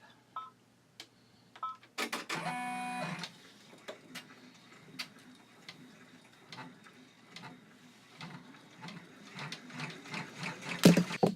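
Embroidery machine stitching an in-the-hoop pin cushion weight design, with a burst of mechanical whirring followed by intermittent clicks and taps at varying loudness, nearby and without talk.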